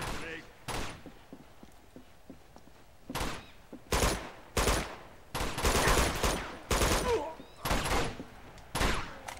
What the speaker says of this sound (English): You're shooting the ground again, Tenzin.